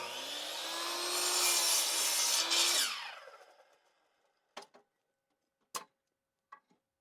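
A power saw cuts through wooden boards for the end walls of an outdoor garden shower, a loud rising whine lasting about three seconds that spins down, then several sharp knocks and taps.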